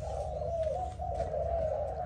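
A Malaysian spotted dove coos steadily in low, soft repeated notes, close by, over a constant background hum with no talking.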